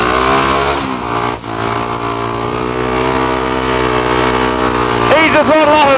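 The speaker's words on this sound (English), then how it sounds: "On the heavy gate, you just got to wind her up quite a bit and just drop the clutch" Speedway motorcycle engine held at high revs at the starting gate, a loud, sustained steady drone with stacked harmonics, briefly dipping near the start and wavering in pitch at the end.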